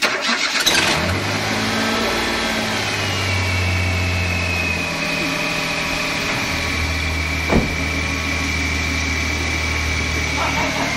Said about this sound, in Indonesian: kita lihat seperti apa setelah mobil ini di starter oleh Mas Elin